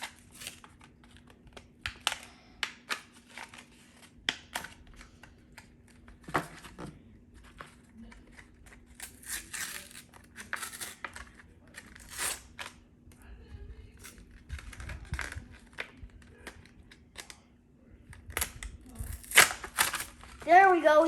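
A McDonald's Pokemon card pack is torn open and the cards handled, giving quiet scattered crinkles, rips and clicking shuffles close by, with a faint steady hum underneath.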